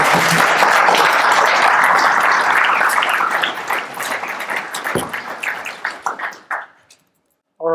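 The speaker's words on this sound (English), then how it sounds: "You may applaud now." A room of people at a Scala meetup talk breaks into loud clapping that thins into scattered claps and fades out, with a brief voice at the end.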